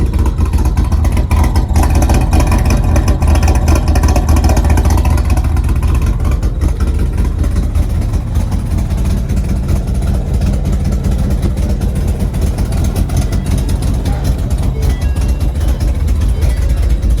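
A ghost-cammed Ford Mustang GT with headers and a Corsa Sport exhaust roars loudly and close, giving a steady, continuous engine rumble throughout.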